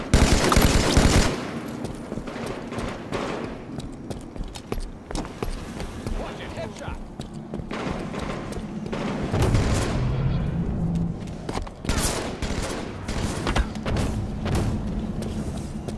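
Gunfire fills a Halo 5 SWAT multiplayer match: loud rifle shots and bursts, an opening volley, then scattered cracks and rattles with game effects, alongside a player talking.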